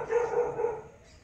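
A dog barks once or twice at a short distance, a brief hoarse sound over faint background noise.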